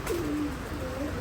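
A pair of red Gola pigeons coos with a low, rolling call, soft and close against a quiet background.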